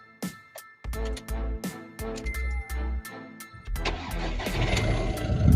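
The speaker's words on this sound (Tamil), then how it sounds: "வண்டி இன்ஜின் ஸ்டார்ட் பண்ணிக்கலாங்களா?" A used car's engine cranks in a few short bursts, catches, then settles into a rising idle that grows louder toward the end, heard close with no talk.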